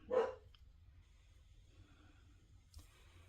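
A single short bark from a dog indoors, close and sharp at the start, followed by quiet breathing and a faint snort in an otherwise calm room.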